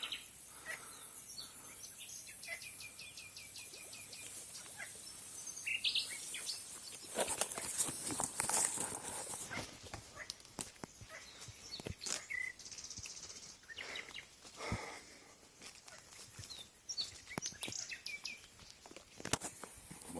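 Birds chirp and call outdoors over a steady insect drone, with scattered short bursts and a quiet rustle in the background.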